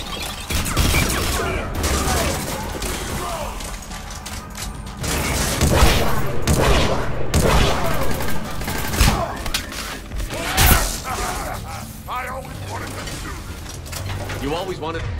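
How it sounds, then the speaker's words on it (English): Sci-fi gunfire firefight in the CIC aboard the Normandy in Mass Effect 3, dense overlapping weapon bursts, booms and cracks running throughout at close range, mixed with game music and voices talking. "You always wanted to have a firefight on the CIC of my ship?"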